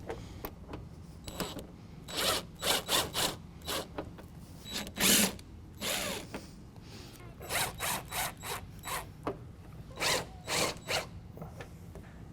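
A power drill drives a self-tapping screw into a True Edge fender flare on a vehicle, giving repeated short whirring bursts in an irregular rhythm, close and moderately loud, with no talking.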